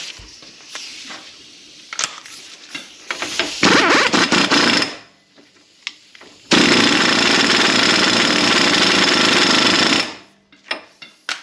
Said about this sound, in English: Let's get this axle nut back on.